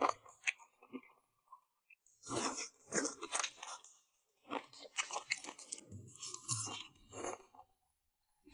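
Crunchy boneless chicken feet bitten and chewed up close, with loud crackling crunches in bursts separated by short pauses, and no talking.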